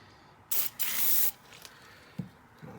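Lubricant sprayed from a can onto jet ski engine parts during engine assembly: two close hissing bursts, a short one then a longer one, followed by faint handling knocks.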